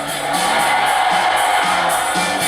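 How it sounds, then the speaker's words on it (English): A frenzied baseball crowd roars and cheers at a White Sox game, a dense, steady wall of noise with whoops and shouts rising from the stands and no break. "Not even Harry Carey, then the White Sox announcer, could control the frenzied crowd."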